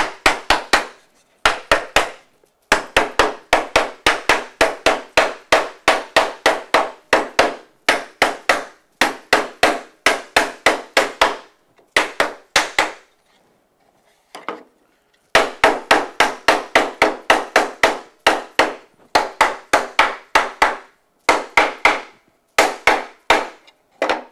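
Wooden dovetail joints for a box tapped together during a dry fit, a long series of sharp, close wooden knocks in rapid rhythmic bursts with brief pauses between runs, no talking.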